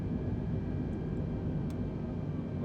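An Airbus A320 in Microsoft Flight Simulator 2020 runs its engines on the runway at half throttle for takeoff, producing a loud, steady broadband roar with no clear rise in pitch.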